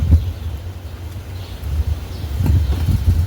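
Wind blows outdoors in a garden, a low gusty rumble across the microphone that swells and eases, with faint rustling.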